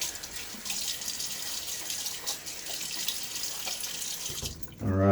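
A bathroom tap runs in a constant hissing stream into a sink as water is splashed on the face before shaving with a Gillette Aristocrat safety razor, ending abruptly when the flow is shut off.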